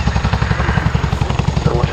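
A Chinook helicopter backs up on the ground at the Duxford airshow, its rotors beating in a fast, loud, steady chop with a commentator talking over it.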